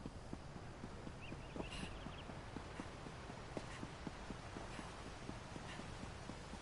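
Horse hooves clip-clopping at a steady trot while riding in Elder Scrolls Online, a regular rhythm of sharp impacts over a constant wind-like game background, with no talk.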